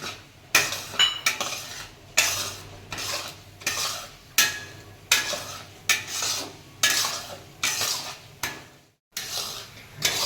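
Almonds and then cashews stirred and dry-roasted in a pan for Gujarati adadiya, a spoon scraping and clattering against the metal in repeated bursts with short pauses between strokes, close and fairly loud.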